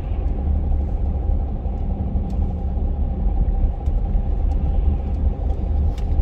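Mercedes ML350 cruising on a road through the New Forest, a steady low engine and tyre rumble heard from inside the cabin, continuous and fairly loud with no voices.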